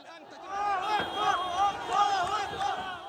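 A huge crowd with armed fighters surrounds a car at a Gaza hostage handover, loud shouting and chanting voices rising and falling in a dense, close mass.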